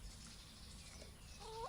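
Farm chickens pecking at grain give a faint, brief call near the end, rising over a low steady background hum.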